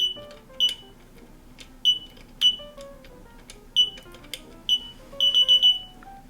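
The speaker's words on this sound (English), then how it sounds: "This will be indicated by 4 beeps" Four short high electronic beeps from a Popp clamp receiver sound one after another, spaced irregularly, with a quick burst of beeps near the end, over faint background hum.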